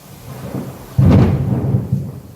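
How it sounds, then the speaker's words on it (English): Thunder rolls during a rainstorm outside a kitchen where tilapia is being fried with ginger and garlic, a sudden loud rumbling crack that swells and then fades into a lingering low roll. "Can you hear that thunder?"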